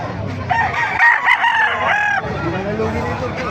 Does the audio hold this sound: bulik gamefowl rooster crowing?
yes